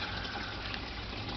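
A washing machine fills with water in a steady rushing gush, close and continuous, with no pauses over the brief stretch.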